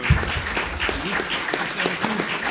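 Audience applause at the close of a colloquium talk on the Bible and the West, a dense wash of clapping with a voice speaking over it and some low rumble.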